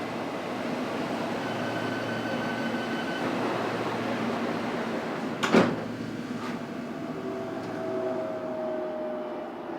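On board a fast London Underground Metropolitan line train heading toward Moor Park, a constant rolling rumble fills the carriage, with a single sharp clunk midway and rising motor whines afterward.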